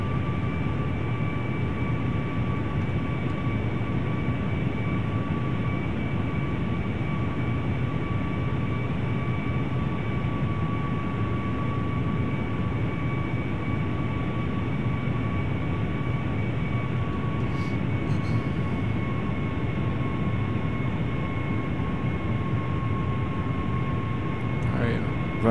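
Steady, continuous engine drone of a QualityWings 757-200 airliner on approach in a flight simulator, a constant hum with faint whining tones holding level for the whole stretch.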